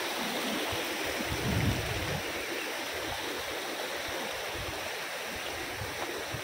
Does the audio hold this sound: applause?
no